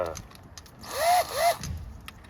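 A DeWalt power tool cleans the rear brake bearing flange on a Hyundai Elantra, revving in two short rising-and-falling bursts close by between quieter mechanical handling noises.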